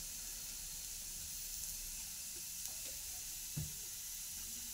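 Potatoes cooking in oil with crushed peanuts stirred in, a steady soft sizzle and frying hiss throughout, with a couple of faint clinks near the end.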